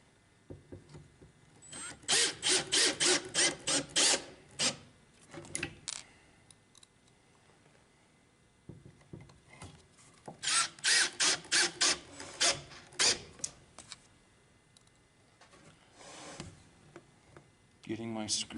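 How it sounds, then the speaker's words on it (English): A screwdriver drives screws into a clamped wooden mini chest, heard as two runs of rapid ratcheting clicks with quieter handling noises between them, close by, while a person talks. "Getting my screws in."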